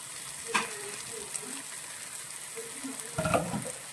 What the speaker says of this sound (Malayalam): നമ്മൾ അതിലേക്ക് ഈ കൊത്തി വെച്ചേക്കുന്ന മാങ്ങ ചേർക്കുവാണ്